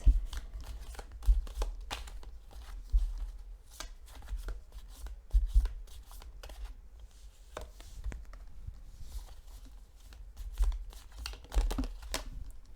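Repeated riffling bursts of playing cards being shuffled, crisp papery flutters recurring every second or two, close up with no talking.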